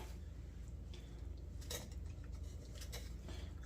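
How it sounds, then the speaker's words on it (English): A utensil stirs half and half into broccoli soup in a pot, making faint, scattered clinks and scrapes against the metal over a low, steady background. "And get that stirred in."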